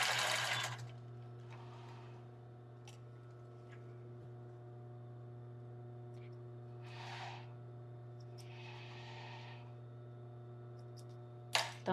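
A domestic sewing machine stitches a lace bra, running with a steady hum and a couple of brief motor bursts for a backstitch, then a sharp clack at the end.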